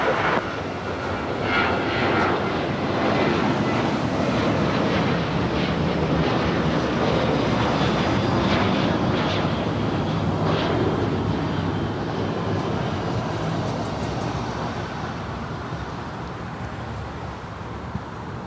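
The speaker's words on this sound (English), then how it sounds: "That was American Airlines flight 2032 heading to Phoenix in that 737-800." An American Airlines Boeing 737-800 taking off from runway 25 right at LAX, a loud sustained jet engine roar that swells and then slowly fades over many seconds.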